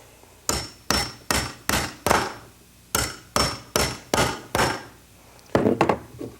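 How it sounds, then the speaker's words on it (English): A hammer drives an electrical box onto a wall during a phone jack installation, landing about a dozen sharp, evenly paced blows in two bursts. The hits are close and loud, with a quicker flurry of taps at the end. "Grab my hammer."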